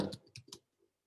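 A few sharp computer mouse clicks, close and quiet, made while selecting spreadsheet columns with the Control key held, spaced over about half a second and followed by silence.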